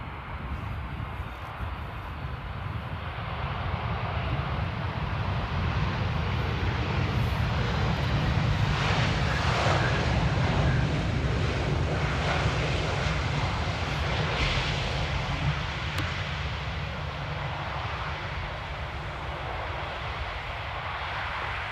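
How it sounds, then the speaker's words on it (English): A KLM Boeing 787-10 Dreamliner lands at Amsterdam Schiphol in rain, its engine roar building to a broad, sustained rumble that peaks mid-way and holds over steady background noise, heard from some distance. "KLM flight 749 Dreamliner -10 coming in from Cartagena"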